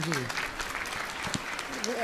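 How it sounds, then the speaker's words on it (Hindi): Short burst of audience clapping at a spiritual discourse gathering, scattered hand claps with voices talking over them throughout. "ताली बजाओ।"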